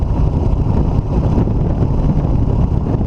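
A 1999 Excelsior Henderson Super X cruiser motorcycle rolls along at about 40 mph, a steady loud low rumble of engine and wind buffeting with no pauses and no talk.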